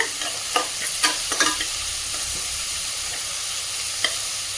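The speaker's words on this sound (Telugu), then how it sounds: "అన్నీ కలిపి ఒకసారి వేగుతాయి. ఉల్లిపాయలు అన్నీ వేసేస్తున్నాను." Onions and cashews frying together in a pan for tomato rice, a steady close sizzle broken by scattered clicks and scrapes of stirring.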